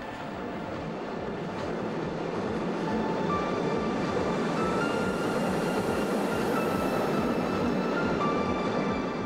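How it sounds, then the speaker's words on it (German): An old Berlin S-Bahn train of class 475, 476 or 477, an eight-car full set, runs along the S5 near Tiergarten, with a steady loud rolling rumble, rattling wheels and faint squeals. "Ein Vollzug, das heißt 4 Viertelzüge oder 8 Wagen, rollt auf der S5."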